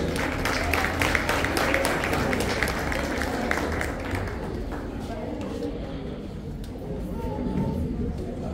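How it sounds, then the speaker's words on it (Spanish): Steady applause from an audience welcoming a poetry recital of a poem about Guatemala, dense clapping filling the room at moderate loudness and thinning slightly toward the end. "Recibámosla con fuertes aplausos."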